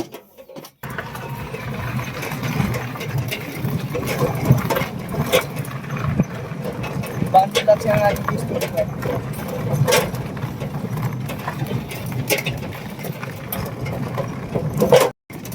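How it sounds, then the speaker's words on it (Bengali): An electric rickshaw (toto) being driven gives a continuous low motor hum with rattles and bumps throughout, fairly loud and close, with some brief knocks. "এই যে আমি টোটো চালাচ্ছি, দেখো এই যে টোটোটা আইদিকে দেখো।"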